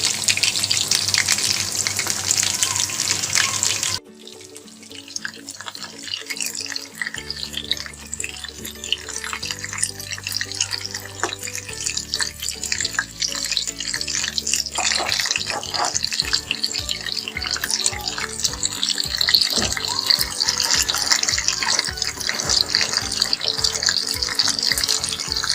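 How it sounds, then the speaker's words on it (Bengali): Chicken pieces fry slowly in oil over low heat, giving a steady, loud sizzle that starts abruptly and runs throughout, with some clattering and stirring noises partway through. "লো হিটে আস্তে আস্তে ভাজতে হবে, যেন ভিতর থেকে ভালোভাবে চিকেনটা ফ্রাই হয়"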